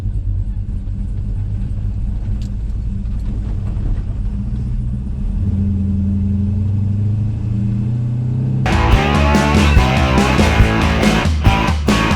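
A truck's low engine rumble drones while driving, then grows rougher and louder as it accelerates near the end.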